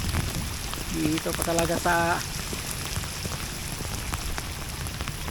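Heavy rain from a typhoon drums steadily on surfaces during a fishing outing, a dense constant patter that stays near and loud while someone speaks briefly over it.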